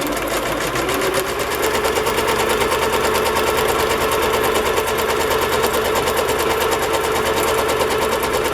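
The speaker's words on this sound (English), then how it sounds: "I'm going to stitch some crochet trim to the other side of it." A sewing machine stitches crochet trim onto a page, running in a steady, fast mechanical rhythm close up and loud throughout, with no voices.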